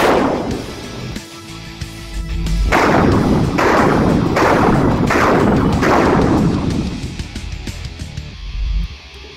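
Pistol shots fired from inside a jacket pocket with Super Vel ammunition: five loud, close, sharp reports spaced roughly a second apart, each ringing out briefly, with no talk.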